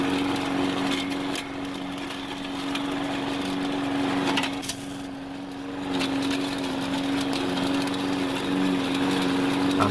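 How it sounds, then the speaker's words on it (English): A gas push lawn mower engine runs at a steady high drone while being pushed across grass, loud and close, briefly dipping once before settling back to a constant whir. "I'm not using too much strength there to push the lawnmower forward."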